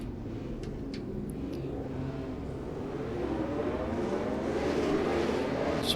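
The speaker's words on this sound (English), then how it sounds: "The sound coming from this car obviously is incredible as well. But what else do you expect? It's a brilliant V12." A Matra V12 racing car in rFactor 2 on the 1966 Monaco circuit gives a continuous engine roar that slowly builds in pitch and loudness as it accelerates, with a few faint clicks early on.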